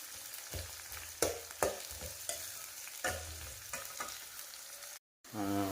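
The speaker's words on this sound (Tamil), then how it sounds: "வதங்கிருச்சு வெங்காயம்." Onions sauté in a pan for a fish curry, with a soft steady sizzle broken by several sharp scrapes and knocks of a spoon stirring, close and quiet.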